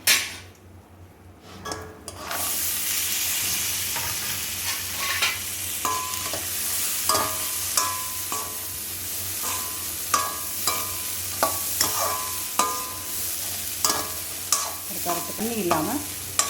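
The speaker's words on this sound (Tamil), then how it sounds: "இப்போ இந்த சுண்டல் உண்டக்கடலையை போட்டுடலாம்" Chickpeas tossed into a hot pan for a Ganesh Chaturthi sundal, sizzling steadily throughout while a spoon stirs and scrapes against the metal in repeated clinks, close and clear with no talking.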